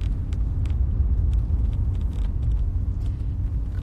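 A car is driving, heard from inside as a steady low rumble of road and engine noise with faint rattles, and no one speaks.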